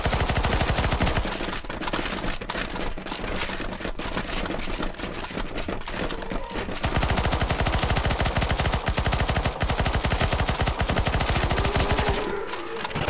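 Dense, loud automatic gunfire rattles almost nonstop in a CS:GO Zombie Escape match on a Star Wars prequel map, overlapping bursts from several weapons with a brief lull near the end.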